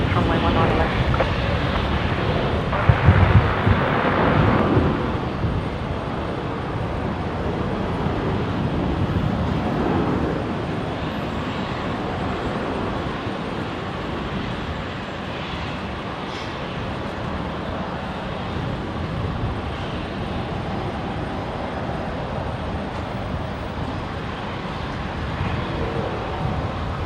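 A Boeing 737 rolls for takeoff on runway 19 left at Brisbane airport, a steady broad engine roar heard from a distance that holds level throughout, with a few brief louder bumps early on.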